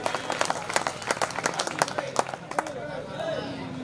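Scattered, quieter clapping from the audience at a mushaira in Dharampuri honours the organising committee. Individual claps stand out in an uneven patter that tapers off, and a voice begins speaking as it dies away.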